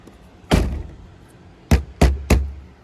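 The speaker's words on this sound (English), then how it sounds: "So listen to the sound difference whenever you open the front doors." A sound-treated front car door is opened and shut, giving four solid, deadened thunks: one at first, then three close together after a pause, with no talking.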